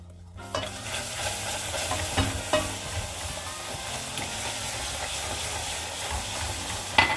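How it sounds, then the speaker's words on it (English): Warm cream poured into hot miso caramel in a pan, off the heat, as it is stirred: a steady close hiss and bubbling sizzle with scraping stir sounds and a sharp clink near the end, no voices. "And I'm going to add my warm cream."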